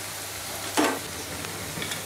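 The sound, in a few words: lentil fritters (daler bora) frying in oil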